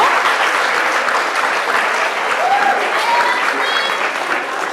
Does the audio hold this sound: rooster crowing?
no